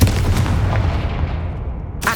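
A Confringo fire spell explodes in Hogwarts Legacy as a loud, deep booming blast with a rumbling tail that fades over about two seconds, then a sharp new impact right at the end.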